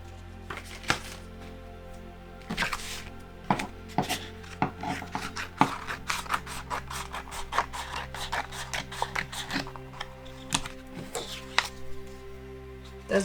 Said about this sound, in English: So now we need to cut off some of this excess on both sides. I'm just going to do that with scissors.